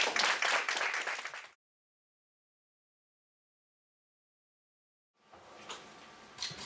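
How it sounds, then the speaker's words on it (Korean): Audience applause at a fireside chat breaks out after a long silence, a dense spread of many hands clapping at moderate volume, with scattered louder claps near the end. "박수를 모셔주십시오."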